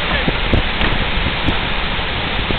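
A wave surges in from a big glacier calving. It is a loud, continuous roaring rush of churning water, with a few brief sharp knocks or splashes standing out on top.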